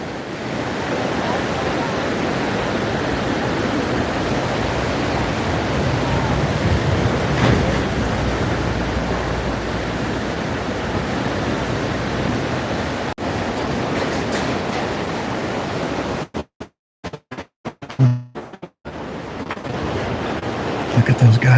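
Ocean surf rolls and washes steadily onto a Hawaii beach at lower tide, with a broad continuous roar mixed with wind buffeting the microphone, broken by brief gusty dropouts near the end.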